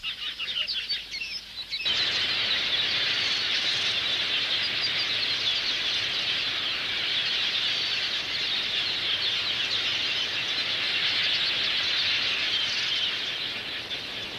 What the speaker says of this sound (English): hundreds of millions of this tiny bird, the red-billed quelea